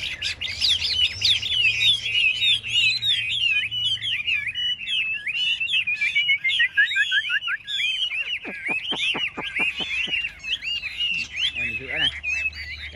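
Chinese melodious laughingthrush (hwamei) songbirds in a cage singing competition, several birds pouring out loud, continuous, varied whistled phrases and rapid trills close by, with a burst of fast repeated notes near the end.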